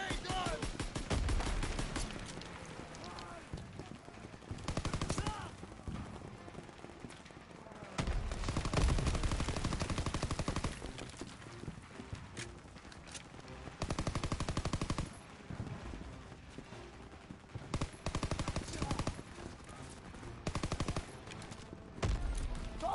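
Machine-gun and rifle fire from a Call of Duty: WWII battle over trenches and AA guns, loud dense bursts with brief lulls and booms, shouted orders running underneath.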